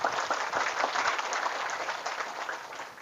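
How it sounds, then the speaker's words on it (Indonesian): A crowd at a religious gathering claps in steady, moderately loud applause that runs continuously for a few seconds without much change. "Tepuk tangan dulu."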